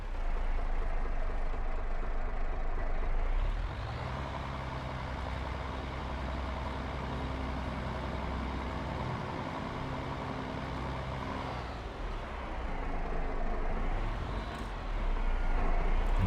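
A tractor in Farming Simulator 22 pulls a plow uphill with a steady, deep diesel drone whose pitch dips and climbs as the load changes, loud and continuous with no talking.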